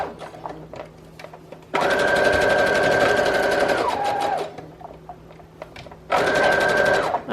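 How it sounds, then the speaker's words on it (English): A sewing machine stitches around the flap of a fabric envelope for an autumn junk journal, making two bursts of steady, close mechanical whirring with a brief slowdown between them and quiet handling noise in the gaps. "And then what I'll do is just sew around the flap itself."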